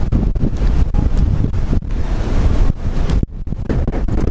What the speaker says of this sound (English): the wind right now is at least 40 miles an hour